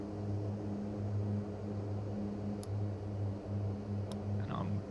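A Skyvan propeller aircraft cruises in a flight simulation game with 10 degrees of flaps, a steady low droning hum with a faint pulsing beat, continuous and without talk.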